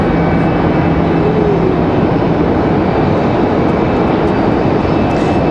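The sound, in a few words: Copa Airlines Boeing 737 MAX 9 jet aircraft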